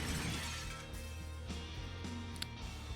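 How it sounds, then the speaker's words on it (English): A mirror shatters in The Binding of Isaac: Repentance, a bright glassy crash with a brief high tinkle near the end, set over steady game music and ambience. "That's the sound of the mirror breaking."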